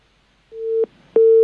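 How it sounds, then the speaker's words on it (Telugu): A telephone line tone sounds while a caller is connected to a call-in show: two loud, steady pure beeps, each ending in a click, with a short quiet gap between them and no talking. "మరోసారి రమేష్ కుమార్, రమేష్ నాయుడు గారు ఫోన్ లైన్లో."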